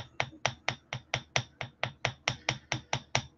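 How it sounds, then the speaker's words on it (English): A jeweler's hammer taps steadily on a flattened coil of 40-gauge wire, about fifteen sharp, evenly spaced strikes, crisp and close with no voices. "take a jeweler's hammer to it real quick"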